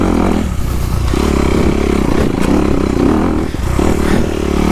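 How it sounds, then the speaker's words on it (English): Honda 250 RX motorcycle engine running close by, loud and steady with a droning idle that swells briefly in revs a few times, with faint clatter underneath. "I've been riding the Honda 250 RX a lot."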